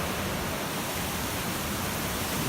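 Appalachian creek in the Big Branch Wilderness, water rushing over rocks in a steady, loud broadband wash, close by and unbroken, with no voices.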